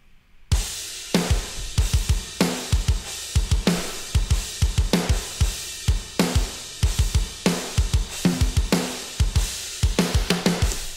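Soloed rock drum kit from the One Kit Wonders Aggressive Rock sample library, playing a steady aggressive groove of punchy kicks, cracking snare hits and bright cymbal wash, loud and close with no voices.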